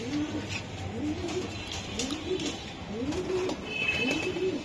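A pigeon coos nearby at a pigeon seller's, repeating soft, low coos in a steady rhythm, about six in a row.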